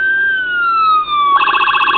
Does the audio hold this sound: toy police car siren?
yes